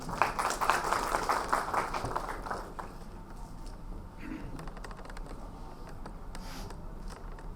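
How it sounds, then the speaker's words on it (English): An audience at a corporate CFO event applauding: a dense burst of clapping for about three seconds that cuts off sharply, followed by quieter room noise with scattered taps and faint murmuring. "Yes, you guys can please have a round of applause for sir."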